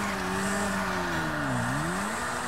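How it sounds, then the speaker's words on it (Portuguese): A motorcycle engine in GTA V strains and fails to pick up speed, its drone steady and loud, dipping in pitch before rising again, with no talk over it. "A moto não acelera, mano. A moto tá ruim demais mesmo."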